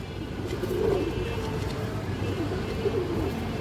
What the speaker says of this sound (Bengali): দর্শক সুপার কোয়ালিটির একটা সবজি গিরিবাস মাদি কবুতর আছে